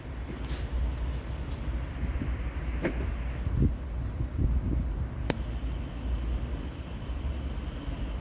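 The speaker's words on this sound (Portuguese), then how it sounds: "Olha os carros passando lá na frente, ó. Aí passa pelo viaduto." A steady low rumble of distant traffic on a viaduct drones throughout, with occasional faint swells as vehicles pass far away.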